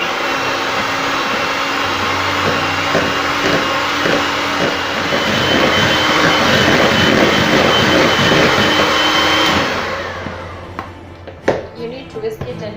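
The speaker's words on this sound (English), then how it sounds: "So we are just going to start first of all by whisking our cream cheese." An electric mixer whisks soft cream cheese for a moist carrot cake, whirring loudly and steadily for about ten seconds before winding down into quieter clatter.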